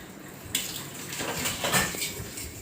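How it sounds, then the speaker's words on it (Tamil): Dishes and pots are washed outdoors after dark, with running water splashing and soft clatters of metal vessels, moderately quiet and continuous. "இருட்டில் வந்துட்டு பாத்திரம் கழுவிட்டு இருக்காங்க"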